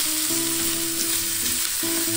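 Chopped onion sautés in a pan for adobong sitaw, giving a constant close sizzle and crackle with no pauses and no talking.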